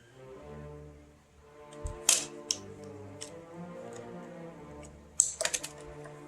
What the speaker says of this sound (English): Hold the bottom of this when you're clicking the wire in.